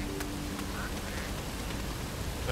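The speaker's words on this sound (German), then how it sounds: "Wir erkennen die Ente." A duck quacks a few times in the video game Risen 3, brief and moderately close over a steady rain-like ambient hiss, with no talking.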